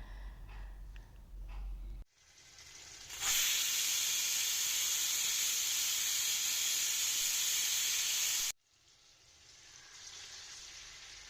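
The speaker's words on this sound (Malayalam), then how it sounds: "അതിൻ്റെ ചിക്കനെല്ലാം ഒന്ന് ഫ്രൈ ആക്കി എടുക്കുന്നു" Marinated chicken for pasta frying in a pan, with a loud, steady hiss that starts abruptly, holds for several seconds, then cuts off, framed by quieter kitchen sounds before and after.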